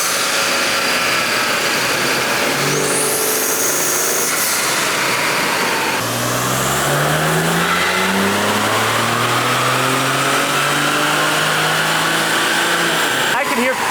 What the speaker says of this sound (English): We'll run map 7 again and see what it makes on a dyno.